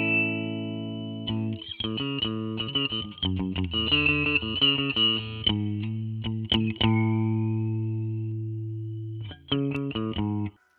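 A synth tone passes through a MoogerFooger Shelved notch filter preset, giving a harsh, buzzy sound in choppy bursts and stuttering chords, with sustained filtered notes between them and an abrupt cutoff at the end.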